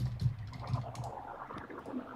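A computer keyboard is typed on in brief, soft bursts of clicks, quiet and close, with a muffled low background.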